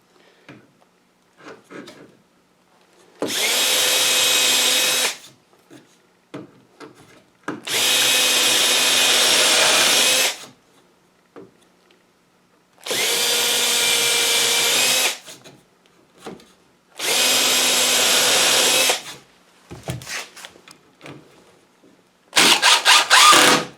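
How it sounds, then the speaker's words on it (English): A power drill bores pilot holes in wood in four sustained bursts of a few seconds each, separated by short pauses with light handling clicks, then starts a fifth burst at the end. "I'll drill a couple of pilot holes to screw that on."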